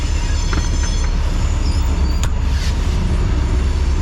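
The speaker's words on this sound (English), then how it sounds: "oh, train." A train rolls loudly past a truck at a railroad crossing, a steady heavy rumble with wheel squeal and clatter, close and continuous throughout.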